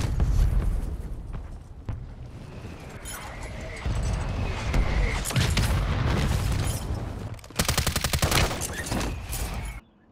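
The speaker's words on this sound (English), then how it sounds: "Mortar strike on the way." Mortar strike explosions in a video game roll out as a run of booms and rapid crackling blasts, loud and close, with a dense burst near the end before the sound cuts off.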